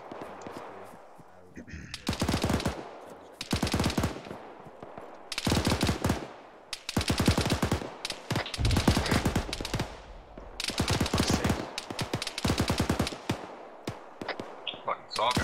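SAW machine gun in ArmA 3 firing several long automatic bursts, loud, sharp and rapid, separated by short pauses; voices talk quietly in the quieter gaps.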